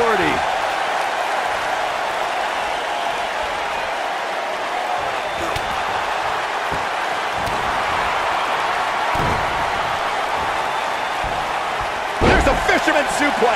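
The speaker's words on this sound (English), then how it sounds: "There's a fisherman suplex." A fisherman suplex in a WWE 2K19 steel cage match ends in a heavy, booming slam near the end, after a few lighter thumps, all over a continuous roar from the game crowd.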